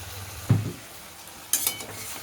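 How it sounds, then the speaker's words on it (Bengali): Food being stirred in a pan, with a lid to follow and black pepper powder being added, gives two short scraping bursts against a soft background sizzle. "সব নেড়ে চেড়ে দিয়ে দিচ্ছি"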